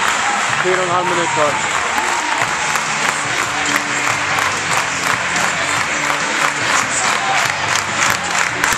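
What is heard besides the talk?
hockey crowd cheering and applauding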